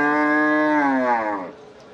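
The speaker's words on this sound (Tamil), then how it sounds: "இது வண்டி மாடு." A cart bull lets out a long, loud moo at a cattle market in Pollachi, the call sustained for about a second and a half before fading out, with no talk over it.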